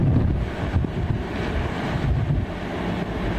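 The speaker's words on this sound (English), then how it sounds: "I'm dealing with wind gusts this strong here." Hurricane Maria's roaring wind gusts buffet the microphone in San Juan, Puerto Rico, a loud, steady, rumbling blast with no talk heard.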